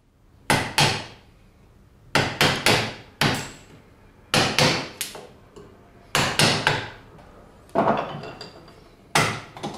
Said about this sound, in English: mark the base with a white chisel by lightly tapping